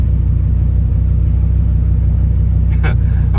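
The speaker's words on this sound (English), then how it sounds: "maybe it's just because I'm not used to the sound of a V10 engine." A Dodge Viper V10 engine with an aftermarket-cam character idles with a steady, loping low rumble inside the car, loud and continuous, with a short burst of voice near the end.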